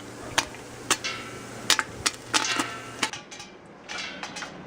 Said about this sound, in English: And they're popping already, wow.